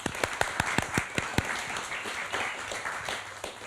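A modest round of applause from an audience at a Brisbane art talk for painter Noel McKenna, opening with a few sharp, distinct claps that blend into a thinner, fading patter of hands.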